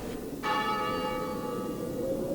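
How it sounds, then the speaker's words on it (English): A church bell rings out in a tense night scene from the Joe 90 puppet series episode "The Unorthodox Shepherd", a sustained metallic tone with shimmering overtones that strikes once and keeps resonating steadily, with no talking over it. "There's the bell again."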